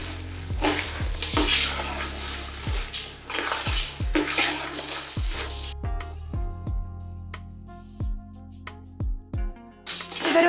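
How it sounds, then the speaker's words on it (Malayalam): Rice being stir-fried in a pan for egg biryani, with repeated scraping and stirring strokes of a spoon against metal over a steady sizzle, loud and close, without speech. "ഒരു 1 മിനിറ്റ് നേരത്തേക്ക് ഇതൊന്ന് ഫ്രൈ ചെയ്തെടുക്കണം ഈ റൈസ്"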